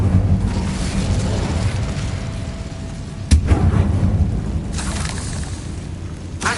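A fiery Incendio spell blast from the Hogwarts Legacy video game booms sharply in the middle, then fades into a dense rumbling wash of game effects and background noise.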